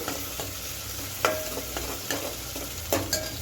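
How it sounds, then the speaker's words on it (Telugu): Onions frying on a stovetop over raised heat, a steady low sizzle with a few sharp clicks of a spoon stirring the pan, close and moderate, with no talk. "ఇప్పుడు స్టవ్ కొంచెం పెద్దగా పెట్టుకొని ఫ్రై చేసుకోవాలి ఆనియన్స్"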